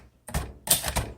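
Typing on a 1957 Royal Quiet De Luxe manual typewriter, a couple of close, crisp mechanical key strikes and clacks in quick succession, alone without talk.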